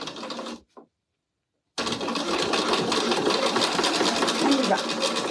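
A sewing machine topstitches fabric in a brief burst, stops for about a second, then runs steadily at a fast, even stitching rhythm, close and loud.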